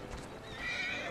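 A horse pulling a carriage in the game Assassin's Creed Syndicate gives a short whinny with hoof clip-clop beneath, close and fairly clear, the neigh rising in the second half.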